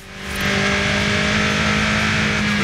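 A car engine drones steadily in Forza Horizon 5, a car from the Apex Allstars pack with a maxed-out standard engine; the tone rises over the first half second, then holds a loud, even pitch with no talk.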